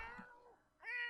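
A cat in The Sims 4 gives two short meows in quick succession, the second rising higher and brighter, close and clear.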